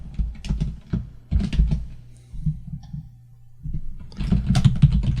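Computer keyboard typing in bursts of rapid clicks separated by short pauses, close and crisp, while code is entered for a Unity C# project, with a faint low hum underneath.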